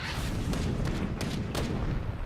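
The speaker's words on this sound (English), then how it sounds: "Cannon fire!" Cannon blasts from the video game Battle Chasers: Nightwar, a few dull booming thuds spaced irregularly over a continuous low rumble, moderately loud and somewhat distant.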